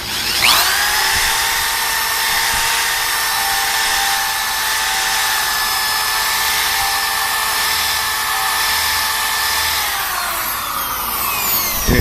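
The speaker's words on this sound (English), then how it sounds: "It's a very fine type of nylon brush that doesn't take metal off, it just cleans the rust off." A power tool spins a fine nylon brush wheel against a rusty wheel on a 1999 Chrysler Sebring, giving a loud, steady high whine with a constant pitch that holds for about ten seconds and then winds down as the tool is released.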